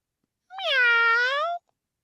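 A human voice imitates a cat's meow, a single drawn-out, clear mew lasting about a second, close and loud against silence.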